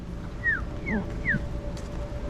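A small dog whimpers three times in quick succession, high thin whines that slide downward, close by over a low background murmur in a shop during Christmas shopping in the Caribbean.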